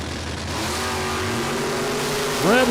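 Drag racing cars, a Camaro and a Stealth, accelerating at a super pro event, engines rising in pitch with a sharp rev climbing at the end, heard under a commentator's voice.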